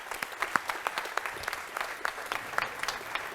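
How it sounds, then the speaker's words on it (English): An audience claps warmly to welcome a guest speaker at a lecture event, steady applause of many hands in a hall, sustained for the whole stretch. "I would like to hear a warm round of applause for no one less than our guest, Professor Dani Rodrik."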